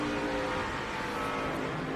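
NASCAR Nationwide Series race car engines drone steadily on the track during the 2010 Food City 250. The sound is a brief, moderately loud, continuous blended roar, with no talk over it.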